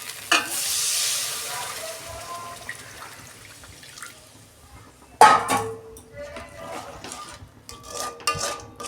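Water hits turmeric-spiced paste frying for a tengra fish curry with a bright hissing burst, then quiet simmering and a second sudden flare of sizzling with stirring scrapes.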